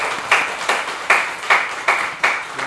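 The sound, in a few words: congregation applause in church service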